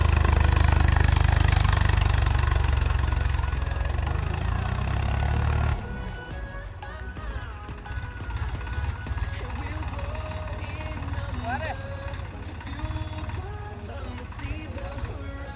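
A Massey Ferguson 9500 4x4 tractor engine runs while the tractor turns in a tight circle. A loud, deep rumble drops after several seconds to a steadier, quieter idle-like drone, close and continuous.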